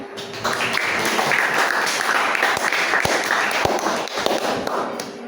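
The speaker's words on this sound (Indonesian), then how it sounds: "Bisa diberi tepuk tangan terlebih dahulu ya." Applause from a classroom audience fills the clip, a dense steady patter of clapping at close range with a few sharper claps standing out, lasting about five seconds without talk.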